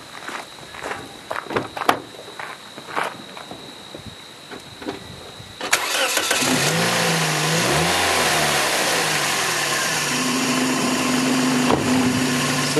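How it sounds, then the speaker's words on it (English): A car engine cranks and catches on power from a small 12V capacitor boost pack, settling into a steady, loud idle after some clicks and handling noises beforehand. "let's go ahead and just do a startup on this and see how that mini boost pack working all alone works to start this car"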